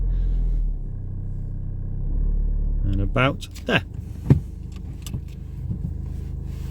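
A car reversing into a parking bay, its engine idling as a low, steady rumble for the first few seconds before a driver's speech takes over and the engine drone fades under it.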